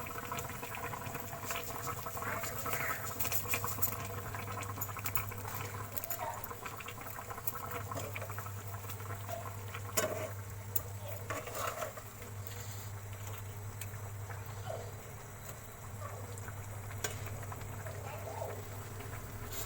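Tamarind fish curry with a little sugar simmers in a pan, bubbling and popping softly and continuously with light patter, fairly quiet and steady throughout, occasional faint voices in the background.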